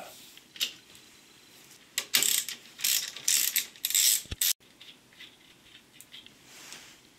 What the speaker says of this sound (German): Das heißt, wir müssen die 2 Muttern lösen.